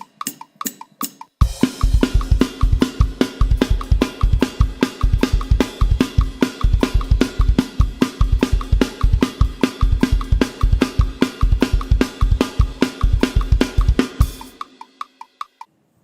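Fast punk rock drum beat at about 150 beats per minute, loud and steady, with driving kick, snare and ringing cymbals in an even pattern; a few brief hits first, then the groove runs about thirteen seconds before ending in a decaying crash.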